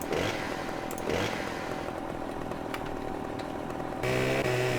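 Chainsaw cutting trees in the Farming Simulator 2015 game, a steady buzzing engine drone running loud and continuous, with a brief rev change near the end.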